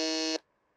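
A quiz contestant's buzzer sounds one loud, harsh electronic buzz lasting under half a second, cutting off abruptly into near silence during a quarterfinal round.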